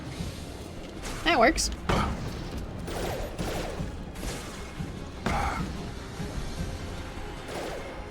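Weapon fire in the sci-fi shooter Mass Effect 2 (2010): several sharp bursts and thuds with metallic clanks, spread across the stretch under frequent talking.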